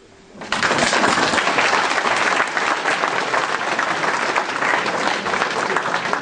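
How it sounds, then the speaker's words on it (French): After a brief quiet moment, a crowd at a mayor's New Year address breaks into loud, sustained applause that keeps going steadily to the end. "on pourrait l'applaudir"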